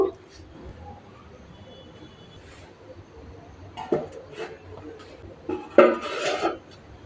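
A metal plate is set down on a stove for heating tart shells, giving a couple of sharp metallic clanks and a brief clatter over low kitchen background, with a voice talking.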